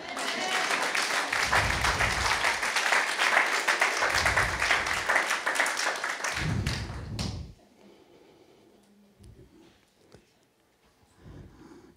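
A church congregation applauding, loud sustained clapping with rhythmic thumps for about seven seconds, then cutting off to near quiet with faint sounds.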